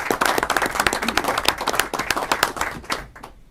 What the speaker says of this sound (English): I do want to give the students who spoke a round of applause now that they've all completed